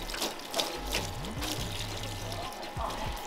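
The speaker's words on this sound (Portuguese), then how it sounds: "Tem que jogar esse água aí." Water poured over a head of hair to rinse out dye, a splashing, trickling pour running steadily for a few seconds with faint background voices.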